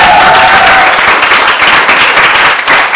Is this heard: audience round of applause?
yes